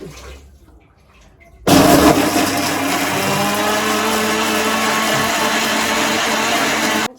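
A mixer grinder grinding masala for a watermelon-rind curry starts suddenly with a loud, steady whirring roar, runs for about five seconds and then cuts off.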